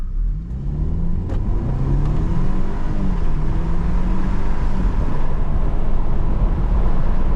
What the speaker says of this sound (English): Launch test, sports mode.